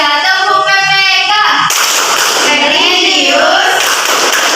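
Children in a classroom perform the PPK clapping chant, young voices chanting in unison with rhythmic hand claps mixed in, close and loud, the sound shifting partway through into a noisier stretch of clapping and chanting.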